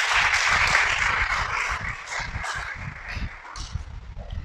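Dense, sustained clapping from a church congregation fills the room, loud and steady at first and then easing slightly toward the end, with no voices heard over it.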